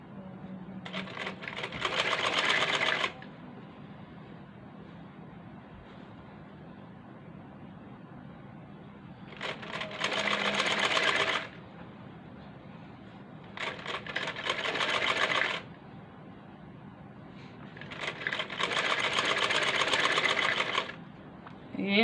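A sewing machine stitches a kurti sleeve in four separate runs of rapid clatter, each a couple of seconds long. Between the runs a low steady hum from the motor continues and quiet handling sounds can be heard.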